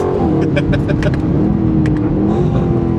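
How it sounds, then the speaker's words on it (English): An Aston Martin Vantage S engine roars loudly and steadily on the road while sharp exhaust pops and crackles burst out in quick clusters over the drone. "Ah, these pops and bangs."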